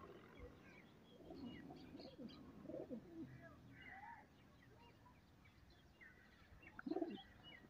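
A pigeon kept by a fancier coos softly at intervals, with faint chirps and outdoor background noise around it.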